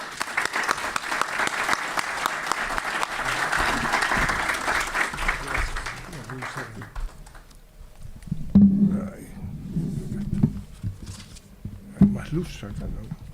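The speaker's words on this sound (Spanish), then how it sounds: "Le damos la bienvenida con un aplauso." An audience at a memorial ceremony honoring Malvinas veterans and fallen applauds to welcome a speaker, with loud sustained clapping for about six seconds that then fades as voices and murmurs from the hall take over.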